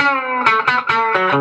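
A Les Paul electric guitar plays a short run of clean, bright, twangy notes from the bridge pickup, each struck distinctly with a slight ringing sustain.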